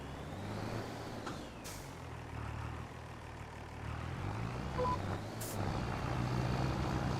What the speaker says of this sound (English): This tractor hates pulling his fucking plow.